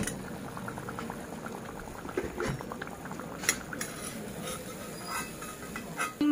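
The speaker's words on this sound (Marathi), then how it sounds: "मिरच्या व्यवस्थित आता फ्राय झालेत" Stuffed green chillies for Rajasthani-style mirchi pakoda deep frying in hot oil, a dense, steady crackle of fine bubbling with scattered sharper pops, close and continuous, with no talking.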